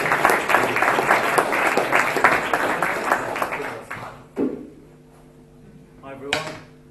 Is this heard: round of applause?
yes